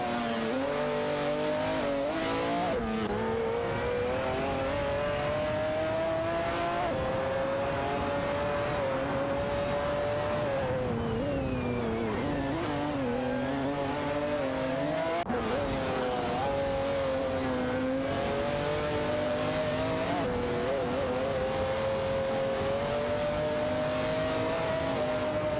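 Race cars lap a circuit in a racing video game, engines whining in a loud, continuous drone that rises and falls in pitch through gear changes, with several cars overlapping.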